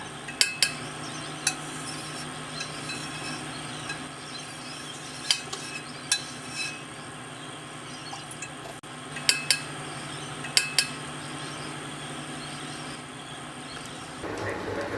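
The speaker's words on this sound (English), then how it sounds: "add 2 cups of milk, 6 teaspoons of butter, and stir when golden brown" Milk and butter stirred in a pot with a metal utensil, giving sharp scattered clinks and scrapes against the pot over a low, steady background, close and fairly quiet, with no talking.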